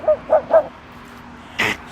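Dogs on a street walk give three quick, close barks in a row, followed after a pause by a brief, sharper bark or yip, with no talk over them.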